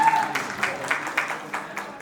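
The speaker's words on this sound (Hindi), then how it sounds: "एक बार जोरदार तालियां मेरी क्यूट सी बहन के लिए" A small group claps for the host's younger sister at a sangeet and cocktail night, a brief, moderately faint burst of scattered hand claps with uneven rhythm.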